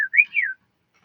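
A voice whistles a short warbling two-part tune, rising and falling, imitating a creature's beeping whistle, heard close and alone before silence.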